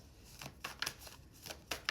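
A deck of cards is shuffled close up and quietly, giving a few quick riffling bursts with short pauses between them and no talking.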